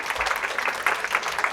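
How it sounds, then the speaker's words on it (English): Audience applause at a DISRUPT.SYDNEY 2018 talk, a steady, fairly close patter of clapping from the crowd that runs the whole moment without a break. "You guys are so friendly. I get a clap at the beginning."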